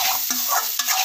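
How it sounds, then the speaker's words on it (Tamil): Snake gourd stir-fry being stirred in a hot pan, a steady close sizzle broken by two or three quick scraping strokes of the spatula. "அப்படி கிளறி விட்டுறலாம்."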